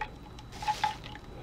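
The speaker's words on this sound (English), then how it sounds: "all right, give that a stir" A spoon stirring melted melt-and-pour soap base in a container, with faint liquid swishes and a couple of small clinks against the side, quiet and close.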